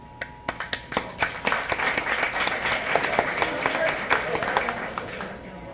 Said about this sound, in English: So I just want to give applause for that.